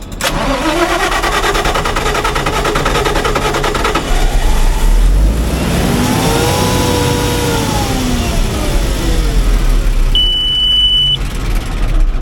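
A rooftop generator engine cranks briefly in the snow, then catches and settles into a steady, loud running drone that continues to the end.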